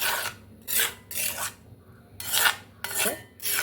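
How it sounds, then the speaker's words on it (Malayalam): Henna powder and gooseberry paste are being stirred with tea water in a bowl, producing about six close, rhythmic gritty scraping strokes separated by short pauses. "എന്നിട്ട് നമുക്ക് നല്ലപോലെ ഇതൊന്ന് മിക്സ് ചെയ്ത് കൊടുക്കാം"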